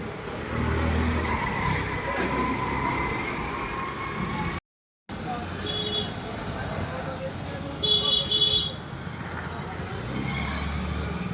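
An old vintage car of the kind seen in Amitabh Bachchan films drives past with a steady engine and road rumble, people talking over it and a short silent gap midway.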